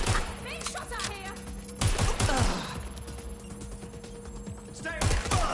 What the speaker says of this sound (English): Being shot at here!